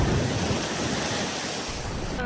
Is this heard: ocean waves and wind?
yes